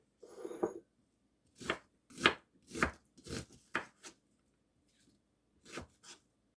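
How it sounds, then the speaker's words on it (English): Knife chopping onion on a cutting board, a short burst of rapid strokes followed by a series of separate, crisp chops with pauses between them, close and alone. "I'm going to cut up some onion"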